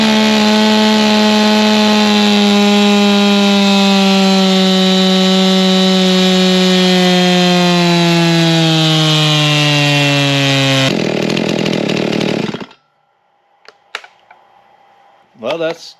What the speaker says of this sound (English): Here's our big bore all bolted on the dyno, and we'll get our runs done, see what kind of power it puts up